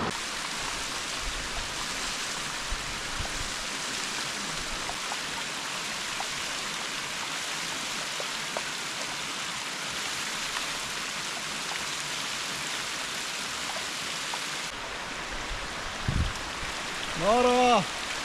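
Hot spring water flows steadily over travertine terraces in Tuscany, a continuous close wash of trickling and splashing that holds even throughout, with a brief faint tonal chirp near the end.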